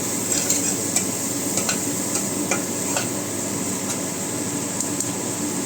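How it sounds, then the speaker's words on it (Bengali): Vegetables fry in butter in a pan under a steady, close sizzle, while a spatula stirs and scrapes in regular taps against the pan. "একটু ভাজা ভাজা করে নিচ্ছি, কালারগুলো থাকবে, খেতে ভালোই লাগবে। আর এটা পুরো বাটারেই করবো আজকে।"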